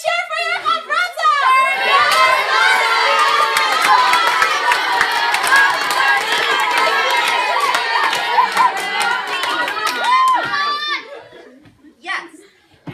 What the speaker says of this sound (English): Everyone cheer for your Chavratza!